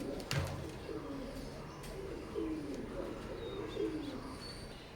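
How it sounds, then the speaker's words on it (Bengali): Soft, low coos from Teddy pigeons of an Omani bloodline repeat several times at an easy rhythm, close by, with faint chirps and some background noise in between. "এই কবুতর দুইটা দেখেন মাশাল্লাহ"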